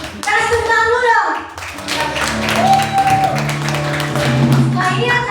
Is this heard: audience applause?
yes